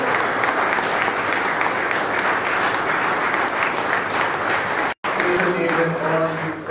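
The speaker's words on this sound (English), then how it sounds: "today we should all clap for them and call them COVID warriors as well" Seafarers at a maritime institute passing-out ceremony receive loud, dense applause that fills the room, interrupted by a brief break and then continuing with a voice audible underneath.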